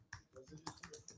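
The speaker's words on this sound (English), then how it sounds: "I'm just typing them in the chat." Quick, light keystrokes on a computer keyboard while typing into a chat, a brief run of close, uneven clicks.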